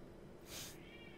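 A male pet cat gives a single drawn-out meow in the background of a quiet indoor room, faint and somewhat distant, with no talking over it.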